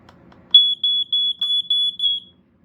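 A smoke alarm being tested emits a series of shrill, piercing beeps in quick succession, loud and close, ending abruptly.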